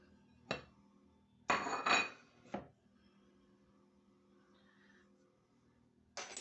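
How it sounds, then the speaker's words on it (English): Pot pie filling being mixed in a bowl, a handful of sharp clinks and scrapes of a utensil against the dish separated by quiet pauses, close and alone. "So this is your time to do all your mixing. Get everything well incorporated."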